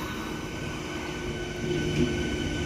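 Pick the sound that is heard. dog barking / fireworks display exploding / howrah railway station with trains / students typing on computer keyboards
howrah railway station with trains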